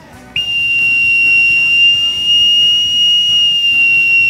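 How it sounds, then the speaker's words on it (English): A police whistle blown in a radio studio, one shrill sustained blast with a sharp start and abrupt end, loud and close with no voices over it. "I thought that was the police whistle sounding when you were approaching up the gangplank."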